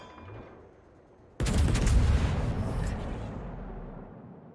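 Heavy naval guns boom from a warship in World of Warships battling a Shimakaze destroyer: a sudden loud blast opens into a dense, sustained roar of gunfire that lingers and slowly fades.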